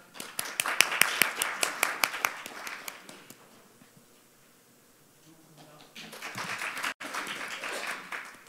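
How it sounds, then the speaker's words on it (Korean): An audience at the 2023 Robot Business Fair talk show on robot ethics claps to welcome a professor: a brisk burst of applause fades into near quiet, then a second round of clapping rises. "여러분 교수님을 큰 박수로 맞아주십시오."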